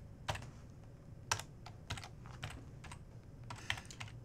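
Sparse, light keystrokes on a computer keyboard come as small irregular clusters of close, quiet clicks with short pauses between them. Nobody speaks.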